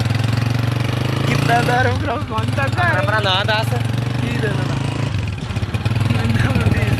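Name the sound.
motorcycle engine running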